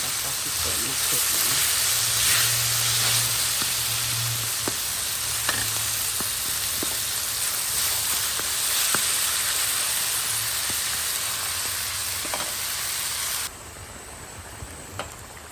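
Pork pieces fry with shallots in a pan, giving a continuous loud sizzle and hiss with scattered stirring clicks. A low hum runs under the frying, and near the end the sound drops to a quieter sizzle.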